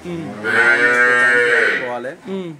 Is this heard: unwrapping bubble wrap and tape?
no